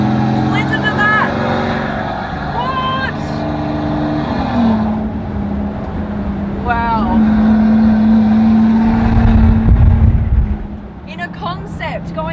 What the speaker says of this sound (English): A one-off car in the world down a private airport strip. Just listen to that.